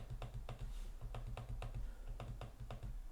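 Crisp clicks from the trackpad of an HP OmniBook 5 Snapdragon laptop come in quick, irregular pairs and runs, close-up and fairly soft, with no talking.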